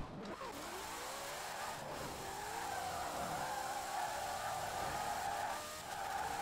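Engine of a 1900HP drag Mustang in Forza Horizon 4, a steady roaring drone with a whining tone that climbs as it picks up speed, fairly faint and continuous throughout.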